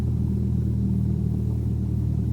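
Simulated Cessna engine in FSX held at about 1,000 RPM after run-up, a constant loud low rumble with steady harmonic drone throughout, no voices over it.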